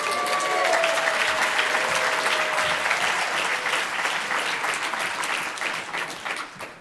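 A conference audience at a Jewish California Capitol Summit applauds and cheers steadily, dense clapping filling the room at strong level before tapering slightly at the end.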